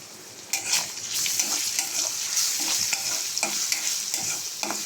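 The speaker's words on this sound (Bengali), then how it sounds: "দেখুন আমি পেঁয়াজ আর কাঁচামরিচ ভেজে নিয়েছি।" Onions and green chilies fry in hot oil for a mixed-vegetable dried-fish curry, a loud continuous sizzle broken by repeated close spatula scrapes and stirring knocks, no talking.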